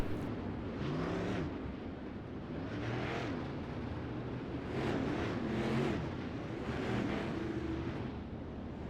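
A 360 sprint car engine roars steadily on a dirt track during a California Lightning Sprints race, with several rising and falling waves of engine noise heard from a middle distance, continuous and fairly loud.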